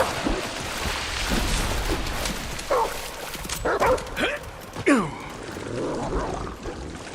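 A dog in the video game Remnant: From the Ashes gives several short barks and yips over a low, noisy game background, spaced across the clip with a few louder, nearer bursts, no talking.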